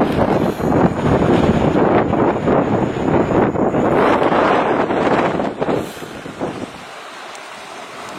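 Strong wind gusting across a dam reservoir, buffeting the microphone with loud, rumbling wind noise and a broad rushing roar that continues steadily before easing toward the end.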